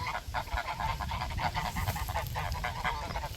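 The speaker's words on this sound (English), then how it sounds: "Hey geese." Geese on a farm honk repeatedly, a near chorus of rough overlapping calls in steady bursts, with a low rumble underneath.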